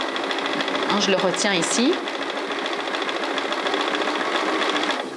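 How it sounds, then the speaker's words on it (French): Sewing machine running a zigzag stitch on stretch knit fabric, a steady close mechanical whirr with rhythmic needle knocking, briefly louder near the start, under someone speaking French. "Si je tire sur le tissu et que je couds"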